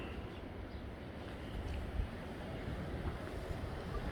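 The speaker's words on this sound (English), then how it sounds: "If you're getting a whole lot of wind noise, I apologize. It is really windy out here right now." Strong wind buffets a microphone outdoors by a small building in West Virginia, a continuous low rumbling roar with slight gusty swells and no voices.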